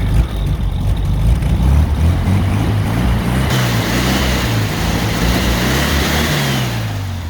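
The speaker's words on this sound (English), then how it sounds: "you rev the plums out of it" A 1985 Mexican Volkswagen Beetle with a standard 1200 engine revs hard after sitting unused for ages, a loud, rough air-cooled roar that swells and holds, rising in pitch midway through and staying up close throughout.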